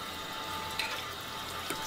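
Steady running water from a tap while washing dishes, fairly quiet and continuous, with a couple of faint clinks over the flow.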